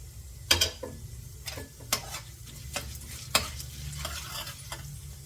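Cumin and poppy seeds frying in a pan, a steady low sizzle broken by sharp intermittent scraping clicks of a spoon stirring, close and clear with no talking.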